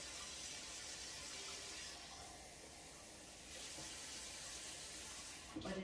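Cold water runs steadily from a kitchen tap, a continuous broadband splash that stays loud and even throughout before a brief clatter right at the end.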